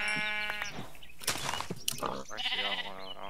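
Sheep in a Minecraft-style SMP video game bleat a few times, with short wavering animal calls that stand out clearly over other game sounds.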